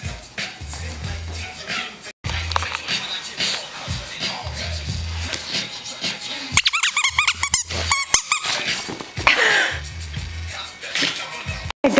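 An Italian greyhound plays with a rubber squeaky toy on Christmas morning, giving repeated sharp squeaks in bursts amid shuffling and low thumps, with a person talking intermittently.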